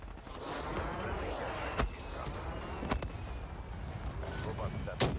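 Gunfire from a first-person multiplayer shooter video game: a few sharp shots and short bursts stand out over a dense, noisy game mix.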